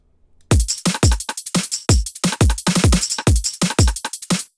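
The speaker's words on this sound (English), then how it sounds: "We have our drum loop that sounds like this." A drum and bass drum loop made in FL Studio Web: punchy kicks, snares and bright hats in a fast, busy, syncopated pattern, loud and up front with no voices, after a faint lead-in.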